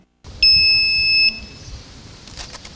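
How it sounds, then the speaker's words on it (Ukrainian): A handheld metal detector demonstrated by a military unit gives one sustained, high electronic beep for under a second, loud and close, followed by faint rustling and handling noise. "Командир презентував журналістам роботу металошукача."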